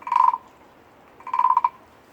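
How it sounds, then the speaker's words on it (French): Two short bursts of rasping, ratchety scraping, like a stick drawn along a ridged wooden frog, separated by a pause. "La grenouille guiro, ça fait longtemps que tu la connais."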